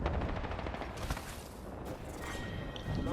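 Rapid bursts of automatic gunfire from the battle royale shooter Apex Legends, loud and dense throughout, with overlapping shots from a nearby fight and no speech.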